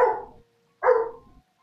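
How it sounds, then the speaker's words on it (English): Dogs bark in the background of a home livestream, two sharp, loud barks about a second apart with silence between. "And I do apologize if you can hear the dogs barking."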